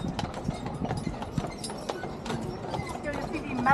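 Horse hooves clip-clop in a steady rhythm on a carriage tour of Mackinac Island, close and clear, with a guide talking over them throughout.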